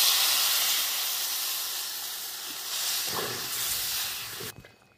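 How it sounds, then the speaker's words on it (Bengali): Water goes into a pan of hot, well-fried masala with boiled taro (mankochu) and potato, and a loud, close, steady hiss of steam bursts out. It slowly eases over several seconds, then cuts off sharply as a few soft clatters follow. "এবার জল দিয়ে দেবো।"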